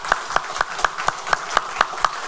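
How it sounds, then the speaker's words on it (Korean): Rhythmic unison clapping from a church congregation, about nine sharp even claps in steady tempo, fairly close and clear with no talking over it. "우리 하나님께 다시 한번 감사의 박수."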